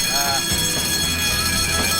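An alarm set off by a heat sensor rings as a steady, loud, high electronic tone with stacked harmonics throughout, over low background noise.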